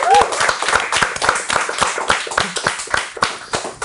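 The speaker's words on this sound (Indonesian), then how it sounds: "everybody tepuk tangan untuk Radit Dika" A podcast studio audience claps for a guest with fast, dense, close applause that runs steadily for a few seconds, with a brief voice at the start.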